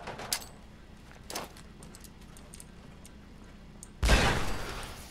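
A few faint clicks and thuds, then a sudden loud explosive burst that lingers as a roaring rumble, from an explosion in the video game Fallout 4.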